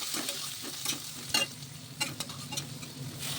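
Sliced onion, curry leaves and panch phoron fry in oil in a kadai, a soft close sizzle broken by a few quick stirring scrapes over a short, quiet stretch with no voices.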